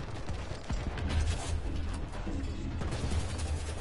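A small tank cannon fires in the War Thunder video game, a sharp blast followed by rumbling engine noise and scattered impacts over a steady low drone.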